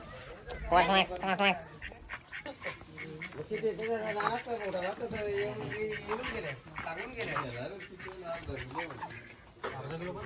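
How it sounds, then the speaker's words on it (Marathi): Ducks quack at a village home during Holi, a few nasal calls bunched near the start and more scattered through the clip, moderately close and mostly under steady talk. "काय बघ इथं बदक आहेत"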